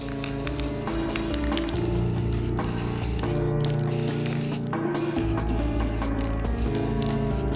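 Spray paint hisses out in broad bursts onto a board being coated in bright colours, including pink, for an epoxy resin rainbow boa project. Short pauses break the spraying, and steady music plays underneath.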